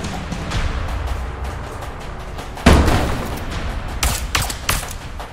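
Video game gunfire in A Way Out comes as a loud burst of rapid shots, followed by several more cracks and bangs over steady background game ambience.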